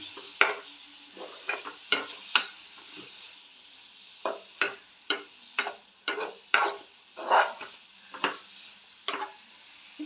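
Onions sautéing in a pan for tomato thokku, stirred with a utensil that scrapes and clinks against the pan in irregular bursts over a quiet, soft frying hiss.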